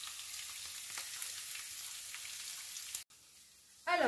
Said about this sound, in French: Voilà, et je laisse griller un moment.